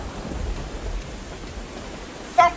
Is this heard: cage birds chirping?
no